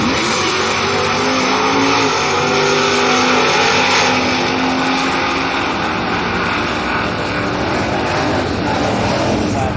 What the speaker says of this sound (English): there's our first GTO of the day